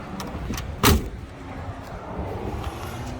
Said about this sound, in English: This door is just not shut all the way.